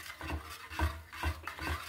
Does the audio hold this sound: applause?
no